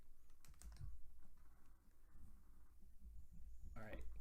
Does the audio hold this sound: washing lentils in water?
no